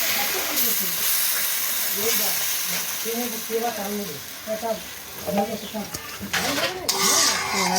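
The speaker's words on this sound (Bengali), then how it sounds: "এবার কড়াইয়ের মধ্যে এই কাপটা ঢেলে দেবে কন্টিনিউ নাড়তেই থাকতে হবে" Raw mango pulp is stirred in a hot kadai, with a steady sizzling hiss and the scrape of continuous stirring close up, while a voice talks intermittently over the cooking.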